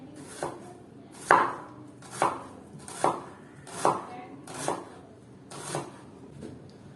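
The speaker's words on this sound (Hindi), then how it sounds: "प्याजों को बीच में से 2 हिस्से करने हैं और इन्हें बारीक काटना है।" A knife chops halved onions finely on a board in a home kitchen. Eight evenly spaced, fairly soft thuds sound close by, with no talking.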